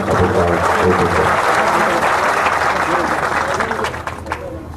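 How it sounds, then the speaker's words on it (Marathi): A large crowd applauds at a Maratha community meeting on reservation in Antarwali Sarati, a dense, sustained burst of clapping that holds loud for several seconds before starting to thin out. "त्यांचं मनापासून कौतुक आणि त्यांचं टाळ्या वाजवून"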